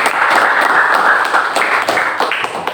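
A classroom of students breaks into applause, a dense, even patter of many hands clapping steadily throughout at close range.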